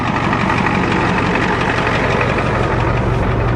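A Ford diesel truck engine with no exhaust system or muffler, started after sitting for two months, runs steadily and loud up close with a dense, rough low rumble and no talking.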